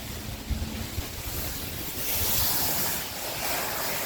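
Wind gusting outdoors, rumbling steadily across a makeshift foam camper build site, loud and continuous with a stronger surge midway and no talking.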